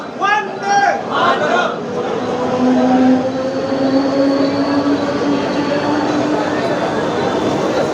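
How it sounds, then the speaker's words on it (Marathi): A train rolls through Badlapur station with a steady rumbling roar and drawn-out metallic squeal, while voices chatter briefly at the start. "पहिली ट्रेन ही पास झालेली आहे"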